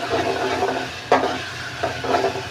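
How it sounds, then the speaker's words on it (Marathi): Chopped onion added to ginger garlic paste frying in hot oil in a pan, a soft steady sizzle with brief stirring scrapes and clinks, close by, no talk. "थोडं आलं लसूण परतलं आपण कांदा टाकून घेऊ"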